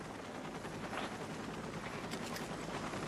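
A rescue helicopter over a flood in Phoenix gives off a dense, continuous rotor roar with rapid chopping pulses, loud and steady throughout.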